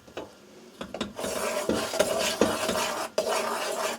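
Cooled homemade sugar syrup for caramel color being stirred in a pot, with steady scraping and clinking of a utensil against the container, close and continuous with brief pauses.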